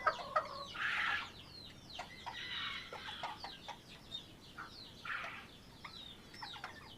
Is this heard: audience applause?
no